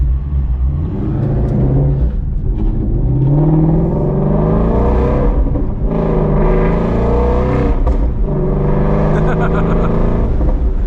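A Ford Mustang GT350R engine revs hard from inside the car, its loud, raw, snarling note climbing and falling through repeated rises in pitch, with a voice speaking over it at times.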